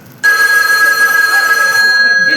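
A telephone rings loudly as a call is placed, a single sustained electronic ring tone starting abruptly after a brief quiet moment and holding steady to the end.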